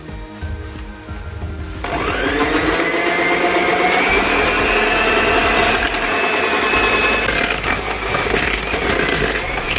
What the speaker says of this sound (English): Adding in the eggs and mix it up again.